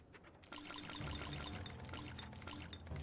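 Water trickles and pours as it is gathered in the war survival game This War of Mine, starting abruptly after a brief quiet lead-in and then running as a steady close liquid stream with a faint repeating tone over it.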